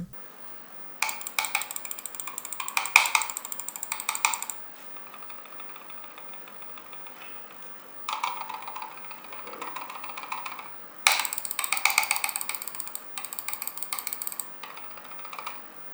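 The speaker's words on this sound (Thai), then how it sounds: "ส่วนสวิตต่างกันมากน้อยแค่ไหนเดี๋ยวลองเทสให้ฟัง" Rapid bursts of crisp clicking from LOGA x SUNTUR limited-collection computer mouse switches, tapped in quick runs separated by short quiet pauses, close and fairly quiet with no talk.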